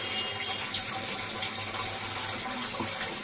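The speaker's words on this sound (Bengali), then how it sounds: "তারপরে অল্প করে জল দেবো" Water streams steadily into a pot of chicken curry with potatoes, a continuous close, even pouring rush with no talking.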